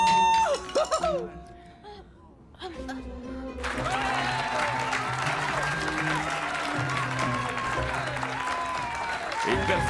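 Applause breaks out after an electronic music performance by a group of boys, rising to a steady clapping crowd with music and tones continuing underneath.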